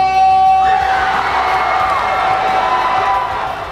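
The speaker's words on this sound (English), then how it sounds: "The crowd exploded when the win of 134-132, just 2 points, secured the win" Crowd at a robotics competition finals cheering and whooping loudly, a dense roar of voices that swells at once and slowly fades over a few seconds.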